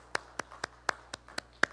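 A church congregation applauding during a Sunday worship service: seven sharp, evenly spaced claps in a steady beat, with no voices.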